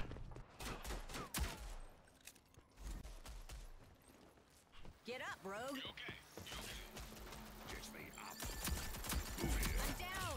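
Rifle gunfire in the online shooter Rogue Company rattles in fast bursts and single shots, loud and close, with gear clicks between volleys and a voice talking over parts of it.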